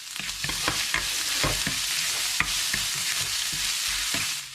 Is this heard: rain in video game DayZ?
no